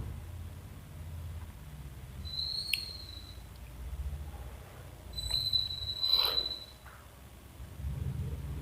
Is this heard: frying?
no